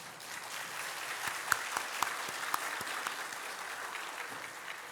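A church congregation applauds during an Easter celebration service, steady dense clapping with a few sharper individual claps standing out, continuous and moderately close.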